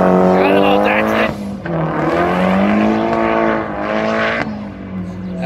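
A Datsun race car at a sprint event roars past close by with a loud, rising and falling engine note.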